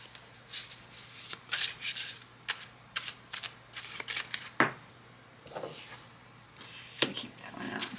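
Oracle cards riffled and shuffled by hand in repeated quick bursts, soft flicking and slapping, close by with brief pauses and no talking.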